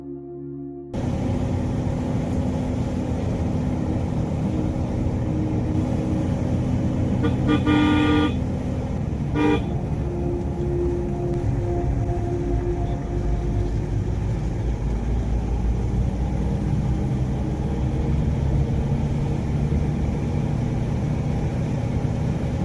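A heavy Mitsubishi Strada diesel pickup engine rumbles continuously and close, working hard with a steady low drone on a mountain road in Papua; a short horn toot breaks in briefly partway through.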